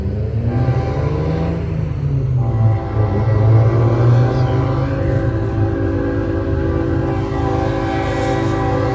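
A Norfolk Southern southbound freight train passes close by, its loud sustained horn sounding over a heavy rolling rumble.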